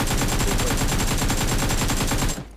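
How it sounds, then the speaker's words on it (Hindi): Rapid automatic gunfire from pre-firing in the mobile shooter BGMI, a loud, dense, steady stream of evenly spaced shots that continues without a break and then cuts off abruptly at the end. "मैं देता हूँ प्री फायर जरा"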